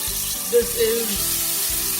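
Hot oil sizzles steadily in a frying pan for a potato and egg curry, a dense crackling hiss that stays constant throughout with a few soft stirring bumps.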